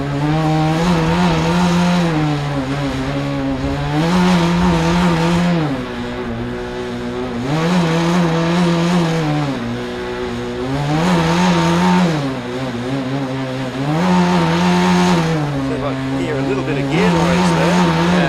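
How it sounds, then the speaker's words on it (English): A Formula SAE race car engine idles and warms up, its steady buzzing note rising and falling in repeated revs roughly every few seconds, loud and close, with no pauses. "He's just getting this engine up to temperature here before he gives it the full beans"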